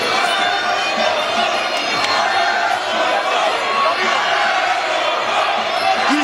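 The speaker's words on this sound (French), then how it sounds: "Il y a peu de combats qui arrivent à soulever la foule de cette manière." Arena crowd at an MMA bout between Yassine Boughanem and Cyril Gane roars and cheers steadily and loudly, a dense wall of noise with a commentator's voice underneath.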